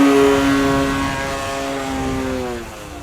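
A CNHL Bison XT 1750mm RC airplane takes off at full throttle, its electric propeller giving a loud, steady whine close by that shifts in pitch and fades slightly as it climbs away.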